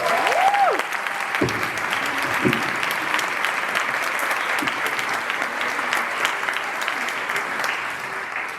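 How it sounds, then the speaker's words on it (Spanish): Applause from an audience at a master class, a steady dense wash of clapping sustained for several seconds at moderate distance, with a brief whistle-like tone near the start. "me ayuden a recibir con un fuerte aplauso"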